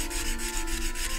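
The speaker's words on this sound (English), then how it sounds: "and sand the shape" Wet and dry sandpaper rubs over a carved wooden shape in a continuous, close rasping scrape that keeps an even, unbroken rhythm for the whole moment.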